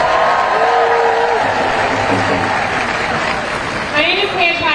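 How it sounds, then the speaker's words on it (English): A protest rally crowd claps and cheers in a sustained wash of applause, with amplified speech over it and scattered whoops rising toward the end. "Give yourselves a round of applause."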